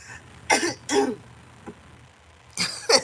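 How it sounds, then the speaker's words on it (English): A woman clears her throat and coughs in short bursts, two close together, then a faint catch, and two more after a pause, close to the mic in a quiet room. "Making me cough."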